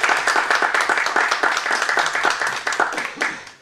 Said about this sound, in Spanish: me gustaría entonces que recibiéramos con un aplauso a Tamara